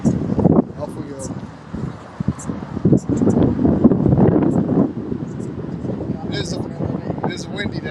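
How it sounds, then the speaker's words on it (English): Gusty wind buffets the microphone outdoors at a Harley-Davidson dealership on a windy day, giving rough, uneven low rumbling, with someone talking over it. "It is a windy day."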